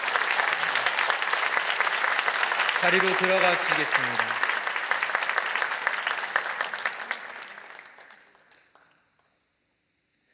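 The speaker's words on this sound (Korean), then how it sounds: "큰 박수로 격려해 주시기 바랍니다" A church congregation gives sustained applause at a teacher appointment ceremony, steady and full for about eight seconds before tapering off to silence, with a voice speaking over the clapping partway through.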